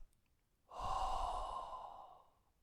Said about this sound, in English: You breathe in. You can hold your breath for some seconds. and then you breathe out.